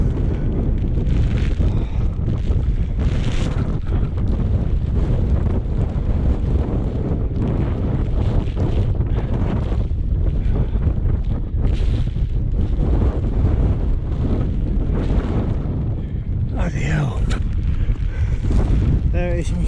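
High wind roars continuously across a mountain ridge on Y Lliwedd, buffeting the microphone with loud, steady gusts in poor visibility and fading light; a person speaks briefly under the constant blustery noise.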